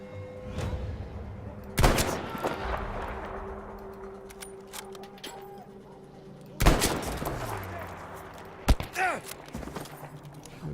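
A machine gun fires in a video game in a few loud bursts with sharp cracks and echoing tails, separated by quieter stretches of lingering rumble.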